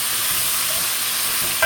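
Parrot fish frying with vegetables, a loud, dense, steady sizzle and hiss close up, with a brief clink near the end.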